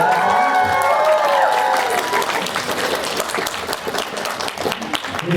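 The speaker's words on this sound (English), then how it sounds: "give a big round of applause to our Sailor Moon voice actors" Loud, sustained audience applause with some cheering for the Sailor Moon voice actors coming on stage at an anime convention panel in Toronto, a few tonal sounds at the start, the clapping steady throughout.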